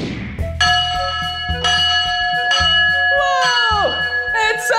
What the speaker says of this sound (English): That was a really loud bell from this big steam train